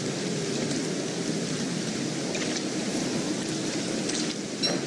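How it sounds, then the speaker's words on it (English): Steady rain hisses with rumbling thunder in the Don't Starve video game during a frog rain, a constant dense wash of sound with no speech. "Guys, it's a frog rain."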